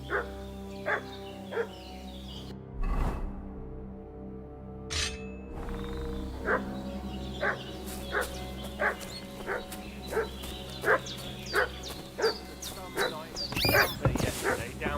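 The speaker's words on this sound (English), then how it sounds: "What's that dog making such a fuss about?" A dog in the video game Kingdom Come: Deliverance 2 barks repeatedly in a steady rhythm at middle distance, over a village ambience with a few louder thuds.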